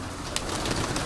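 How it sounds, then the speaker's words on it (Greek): A flock of pigeons swoops onto a small rooftop terrace in Kozani, Greece. Dense, close wing fluttering and a few soft coos blend into a loud, continuous rush over the brief stretch. "Ορμήξανε τώρα όλα τα περιστεριά."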